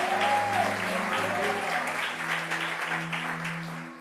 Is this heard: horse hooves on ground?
no